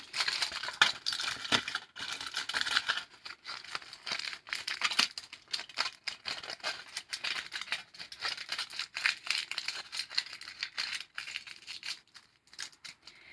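Aluminium foil is crumpled and pressed by hand into a sculpture, close and irregular crinkling with bursts of sharp crackle and brief pauses, no talk.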